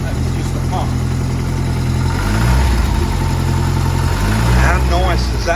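A barn-find Ford Escort RS Turbo S2 engine idles close by with a steady, burbling mechanical note and two brief blips of revs, while people talk over it.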